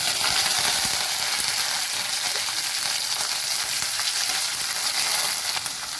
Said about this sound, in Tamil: நெக்ஸ்ட்டு கட் பண்ணி வச்சுருக்க சாம்பார் வெங்காயமும் கருவேப்பிலையும் சேர்த்துக்கலாம்.